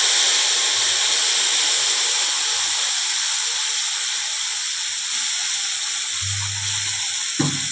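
Ground spice paste hits hot oil in a pan while cooking a vegetarian potato and cauliflower dish, giving a steady, close hiss and sizzle that runs throughout, with a brief louder crackle near the end.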